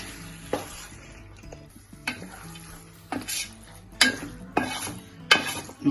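A spoon or ladle stirs a mutton biryani mixture in a pot, giving several scraping, clattering strokes roughly once a second over a soft sizzle, close by, with no voices.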